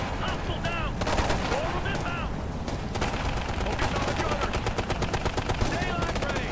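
Repeated rifle gunshots crack in Ghost Recon: Future Soldier from a DMR, rapid sharp reports in quick succession, loud and close amid battle noise, with a voice talking over the firing.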